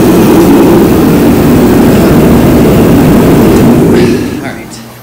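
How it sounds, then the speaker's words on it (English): A loud, roaring space heater blower runs steadily for several seconds, then winds down and fades as it switches off; a voice speaks over it. "Turn this heater off, it's pretty loud."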